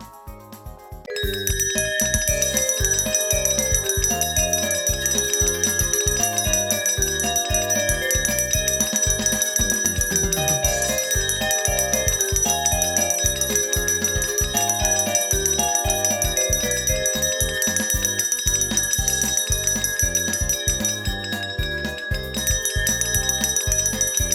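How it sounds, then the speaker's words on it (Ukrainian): The first school bell of the new year at a Day of Knowledge ceremony in Kharkiv, rung by first-graders: a loud, continuous ringing that lasts many seconds with a rapid, even pulse and bright sustained tones. "Право надати перший дзвоник надається нашим першокласникам."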